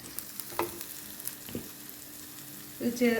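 Onions sizzle softly in a pan as garam masala goes in, with a low frying hiss, a few faint knocks of a spoon, and a brief louder clatter of stirring at the end.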